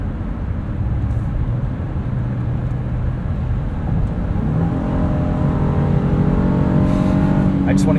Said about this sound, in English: I just want to hear more VTEC.